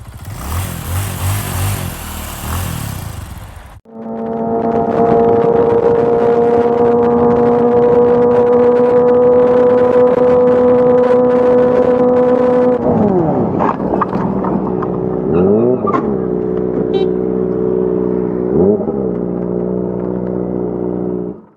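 A Honda Supra motorcycle engine starts and revs up into a steady, loud drone, then shifts gears and eases down with a few throttle changes before cutting off.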